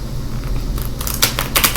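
Tarot cards being shuffled, a soft papery rustle building to a few crisp riffling bursts over a low steady background hum, close and brief with no talking.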